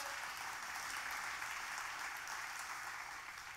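Sustained applause from a church congregation, a steady even wash of clapping heard at a distance and filling the whole stretch without voices.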